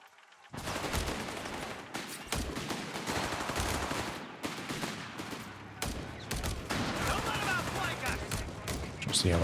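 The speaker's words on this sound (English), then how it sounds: "Got machine gun coming down now as well." Dense gunfire in the Company of Heroes 3 strategy game with machine gun bursts among other battle noise, loud and continuous throughout, overlapping with a commentator talking.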